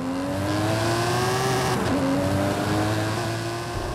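An Aston Martin DBS Superleggera Volante's 5.2 litre bi-turbo V12 drones loudly and close, its pitch climbing steadily, dipping briefly at a gear change, then rising again.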